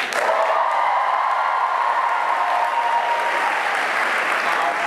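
An audience at a welcoming ceremony in Atlanta applauds and cheers in a dense, sustained wash of clapping with scattered whoops, loud and steady throughout.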